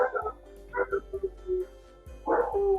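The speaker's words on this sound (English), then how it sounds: "Sorry about the dog. Somebody's at the door." A dog indoors lets out a string of short barks and yips, close and moderately loud, ending with a stronger bark, with no voices present.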